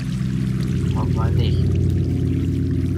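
Flowing water from a water source block in Minecraft, a steady broad pouring rush running throughout, with someone speaking over it.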